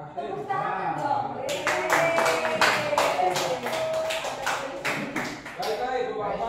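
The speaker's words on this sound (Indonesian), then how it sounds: "Tepuk tangan dong." Audience applause at an Indonesian seminar, a room of people clapping together in a dense, steady patter for several seconds while a voice talks over it near the start and end.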